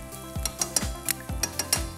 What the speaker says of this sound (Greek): Σοτάρετε καλά τον μπελτέ.